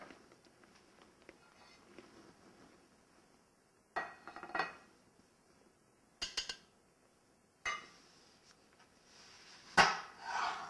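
Thick dahl lentil soup is spooned from a pot into a serving bowl in short bursts of scraping and clinking, four or five separate knocks of utensil against dish with quiet pauses between.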